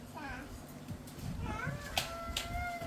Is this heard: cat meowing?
yes